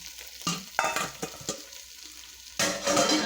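Beef stew being stirred in an oiled pan, giving scraping, stirring strokes over a steady sizzle that swells louder near the end, close by and with no talking.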